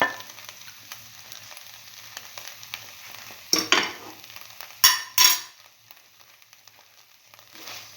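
Eggplant and bread pieces stir frying in a pan, with a steady soft sizzle throughout, punctuated by a few louder scraping stirs of the spatula in the middle.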